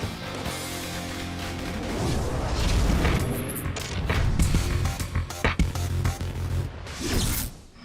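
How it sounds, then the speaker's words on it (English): Fireworks go off inside a bedroom, loud booms, crackles and sharp bangs building into a dense barrage of overlapping blasts and debris-like clatter lasting several seconds. "Fireworks in a bedroom"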